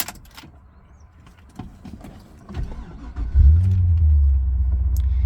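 A manual Holden Monaro CV8 V8 with extractors cranks and fires into a deep, loud rumbling idle, heard close up after a few quiet clicks and movements.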